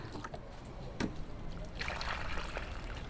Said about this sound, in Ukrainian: Так, давайте капусту салат прольємо.